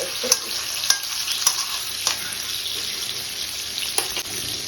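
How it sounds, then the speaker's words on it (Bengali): Prawns frying in a pan: a continuous hissing sizzle with intermittent sharp clicks and taps of a utensil turning the pieces, close and steady throughout. "হালকা করে একটুখানি ভেজে নিয়ে তুলে নিলাম"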